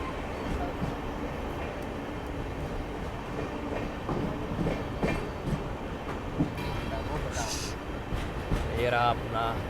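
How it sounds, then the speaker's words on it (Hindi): A passenger express train hauled by ALCO locomotive 11468 rolls along with a steady rumble and rhythmic wheel clatter from inside the coaches, a faint squeal near the end and voices talking over it. "ये रहा अपना एल्को लोकोमोटिव 11468 शटनी।"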